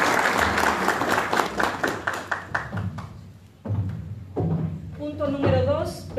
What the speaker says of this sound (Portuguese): quisiera pedir al distinguido auditorio que lo recibamos con un fuerte aplauso